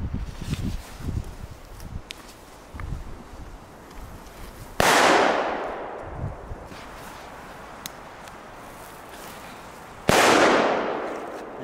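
Two loud firecracker blasts go off outdoors several seconds apart, each a sharp crack with a long fading echo, between quieter stretches of rustling and footsteps.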